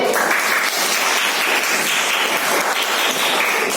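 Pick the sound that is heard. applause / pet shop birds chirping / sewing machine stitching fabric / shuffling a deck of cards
applause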